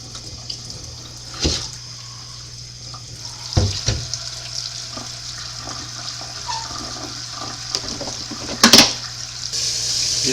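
Running tap water splashes through a strainer full of moss being rinsed, a steady hiss and patter close by with a few louder clunks and sloshes.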